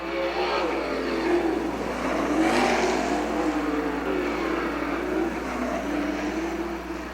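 Sprint cars in a POWRi WAR heat race roar around a dirt oval, a steady loud engine drone that swells and fades as the pack passes through the turns and down the back straightaway.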